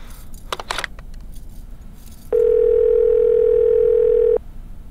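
A telephone dial tone sounds steady and loud for about two seconds while calling a hotel, preceded by brief handling clatter from the handset.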